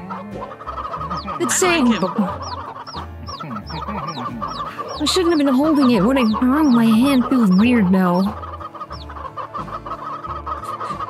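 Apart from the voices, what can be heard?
chickens clucking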